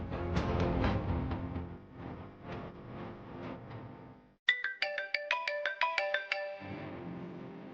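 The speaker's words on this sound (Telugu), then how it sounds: "ఇందాకటి నుండి ఫోన్ రింగ్ అవుతుంటే లిఫ్ట్ చేయట్లేదు." A phone ringtone plays a loud, rapid electronic melody of repeated bright tones for about two seconds, sharp and close, between stretches of background music.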